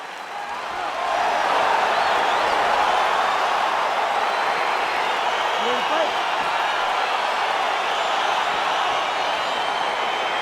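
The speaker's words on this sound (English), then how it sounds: "crowd getting excited as this fight gets underway" An arena crowd in EA Sports UFC 4 cheers as a fight gets underway, a dense, sustained roar that swells in after the first second and holds steady.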